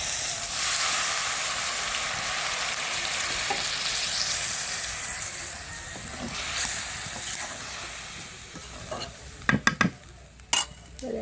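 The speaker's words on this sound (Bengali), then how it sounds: "এই তো গোটা জিরা দিয়ে ভালোভাবে এখন পেঁয়াজটা একটু লাল লাল করে ভাজা নিব।" Onions fry with whole cumin in a pan over a rural clay stove, giving a steady, close sizzle and hiss. Near the end a few sharp knocks and scrapes of a utensil against the pan break through.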